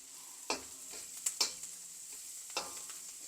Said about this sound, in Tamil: பாவக்காய்லாம் சேர்ந்து ஒன்றா ஃப்ரை ஆகுது